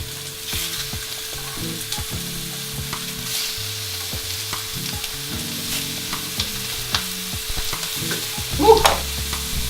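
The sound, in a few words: slider burger patties sizzling while frying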